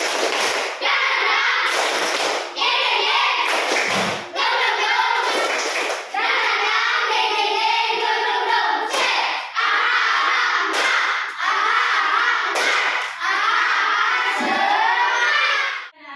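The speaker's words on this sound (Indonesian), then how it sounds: "Kita tepuk dangding dulu ya, nak. Tepuk dangding dong." Schoolchildren in an Indonesian classroom clapping a rhythmic chant together, loud grouped claps in bursts with children's voices chanting between them, close and lively.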